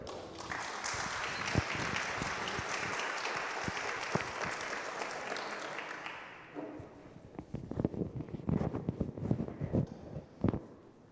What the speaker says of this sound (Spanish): recibimos al Padre José Gabriel con un fuerte aplauso.